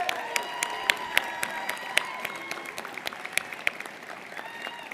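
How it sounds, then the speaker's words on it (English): Banquet guests applaud Judy Maxwell at an annual Oxford House dinner, a full room of clapping with distinct sharp claps standing out from the crowd, steady throughout and tapering slightly toward the end. "And so I want to give a round of applause to Judy."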